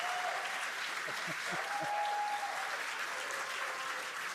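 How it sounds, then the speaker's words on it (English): Crowd cheering and applauding during a Starship test launch, a broad steady roar heard at a distance, with a faint voice talking under it. "They're cheering."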